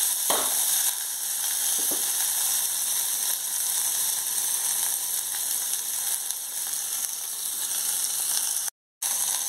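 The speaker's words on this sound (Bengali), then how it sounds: "এবার কপি আর আলুটা দিয়ে দেব।" Cauliflower and potato pieces go into hot oil with fried cumin seeds, giving a loud, steady sizzling hiss that holds throughout and cuts out briefly near the end, with no talking.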